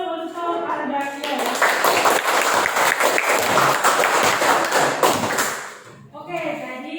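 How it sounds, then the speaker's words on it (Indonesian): A classroom audience claps for a student named Ardakia, a dense burst of applause lasting about five seconds before tapering off, with a voice speaking before and after. "aplaus dulu untuk Ardakia"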